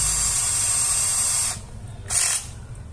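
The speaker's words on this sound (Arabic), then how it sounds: "هلق راح نثقب" A small drill bores a hole while a Braun epilator's gear is being repaired, a loud close high-pitched whine that stops, then a short second burst.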